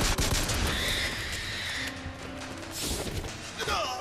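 Gunfire in the video game Bioshock Infinite, a dense stretch of shots and impacts mixed with game effects and music, loud and continuous throughout, with a voice talking over parts of it.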